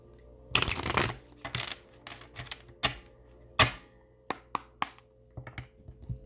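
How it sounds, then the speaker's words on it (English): Tarot cards are shuffled close by. A loud riffling burst comes first, followed by a string of sharp, separate card taps and slaps that gradually space out. "I know the cards can be like kind of loud"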